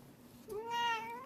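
A cat that has just been picked up lets out a single drawn-out, rising meow, close but fairly quiet, with no talk over it.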